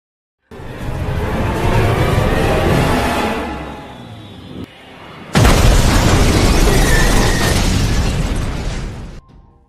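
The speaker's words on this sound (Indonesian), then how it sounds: "Dia mendorong mobil mereka hingga masuk ke jurang dan meledak." A loud roaring blast swells and fades, then a second sudden, sharper explosion bursts out and rumbles on, like a car pushed into a ravine blowing up in a film.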